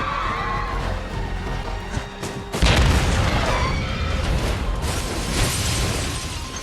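An explosion in a Jackie Chan action film erupts as a sudden deep boom, then a loud rumbling roar that lingers over a dense, noisy background.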